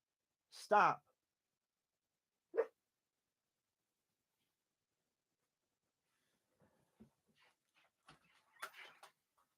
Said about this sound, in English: Stop interrupting. Stop barking.